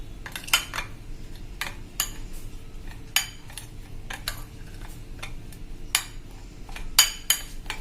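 Spices get mixed in a bowl, with a spoon scraping and clinking against the dish in irregular taps and strokes, close and fairly quiet, with no talk.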